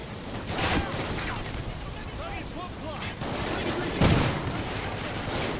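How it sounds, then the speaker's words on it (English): Shotgun fire in Call of Duty: Ghosts: two heavy blasts a few seconds apart amid ongoing game ambience, with faint chirping effects between them and the second shot the loudest. "No, I want the shotgun, I'm gonna use the shotgun."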